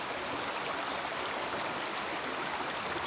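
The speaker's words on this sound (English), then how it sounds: "we'll go ahead and add our water and allow it to steep for a few moments here" Water poured into a jar of gathered forest needles to steep for tea outdoors, a soft continuous stream-like trickle that holds steady throughout, fairly faint and without voices.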